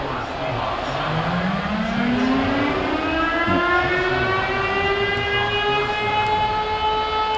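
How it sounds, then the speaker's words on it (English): A long rising stadium siren wail after a touchdown in an American football video game swells and holds steady over a noisy crowd-like background, loud and continuous throughout. "Yep, that's our siren."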